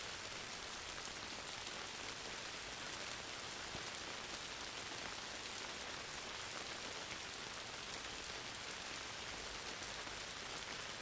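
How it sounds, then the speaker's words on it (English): Steady, dense rain patters on a taut surface overhead, a constant soft hiss with fine drop texture and no voices. "the sounds of the rain on the roof of the tent"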